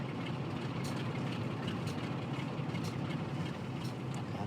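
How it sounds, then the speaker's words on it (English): A locomotive engine idles in the Train Sim World 6 video game, hauling a historic nuclear flask train, a steady low diesel rumble holding evenly throughout with no talking. "Let's hear the sound of the engine."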